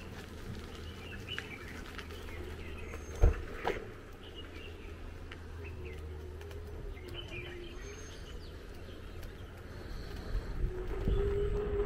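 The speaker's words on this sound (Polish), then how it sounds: "Słychać ptaki, muszę powiedzieć, naprawdę słychać te ptaki." Birds chirp and call outdoors in China, scattered faint tweets over a steady low background rumble, with a couple of louder knocks and some distant noise.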